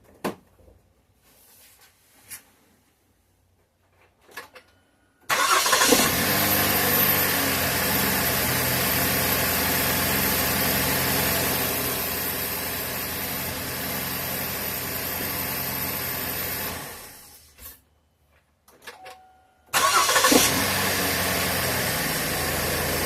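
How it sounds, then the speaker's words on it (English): A Chevrolet Impala's engine, just fitted with a new starter, cranks and catches into a loud steady idle that runs for about twelve seconds, cuts off, then fires up again after a short pause, with small clicks and clunks between attempts. "Go ahead and start it up, see if we had any success."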